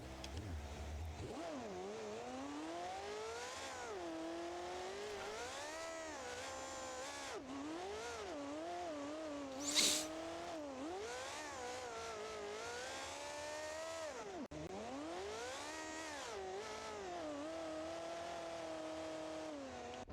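Race car engine in BeamNG.drive running with a manual clutch, revving repeatedly up and down through the gears in a loud continuous whine with sharp drops at shifts and a brief hiss midway.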